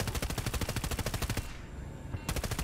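Rapid helicopter gunfire in Battlefield 2042, a loud, close machine-gun stream of evenly spaced shots that stops briefly, then resumes near the end.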